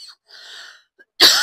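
A person's cough sounds once as a sharp, loud burst near the end, after quieter breathy noises, with no talk.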